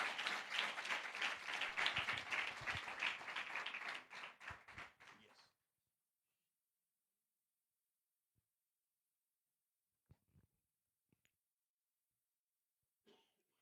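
A church congregation at a spiritual festival's morning session claps together to welcome a pastor, with dense applause for about four seconds that tapers into a few scattered claps and then near silence, broken only by faint small noises.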